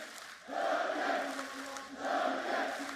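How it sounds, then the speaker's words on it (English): A large crowd at an esports arena during a Valorant match, VCT Champions Istanbul 2022 between DRX and Fnatic, cheers loudly in two sustained swells of roaring voices. "Crowd erupts as support comes through for Durka"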